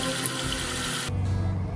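Tap water runs steadily into a sink while thawing water is changed for a brisket, a continuous close hiss of flow that shifts in tone partway through.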